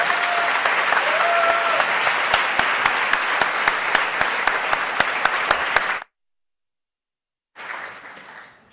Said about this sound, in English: Give these people a giant round of applause.